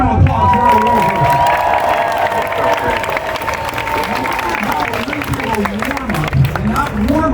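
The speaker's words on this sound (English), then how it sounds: "How about a nice round of applause for our war horses?" Audience at a Renaissance fair jousting show cheers and applauds for the war horses, sustained loud clapping and shouting from a large crowd, with an announcer's amplified voice running over it.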